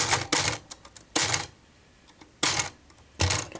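Typing on a Royal KHM typewriter: four sharp, loud key strikes in an uneven rhythm, each with a mechanical clack and short rattle, close up with no talking.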